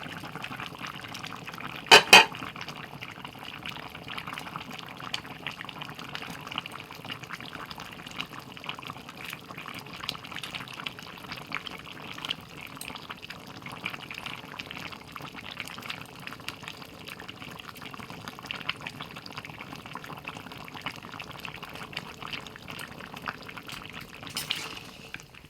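Water boils in a covered pot before fish goes in, a soft continuous bubbling with small pops and a couple of brief louder clatters near the start and end, quiet and close.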